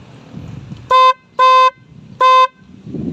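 Three short, loud horn beeps in a quick row, bright and steady-toned, with quiet street noise in the gaps.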